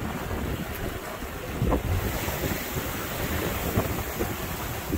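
Strong wind of 25 to 30 knots buffets a Jeanneau 519 sailing yacht at sea, a loud steady roar with rushing water and waves, and occasional gusts thumping the microphone.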